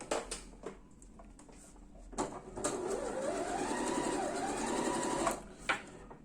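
An Usha Janome Sew Magic computerized sewing machine gives a few light mechanical clicks, then stitches in a steady, rapid whirring hum for about three seconds before stopping, close by and with no talking.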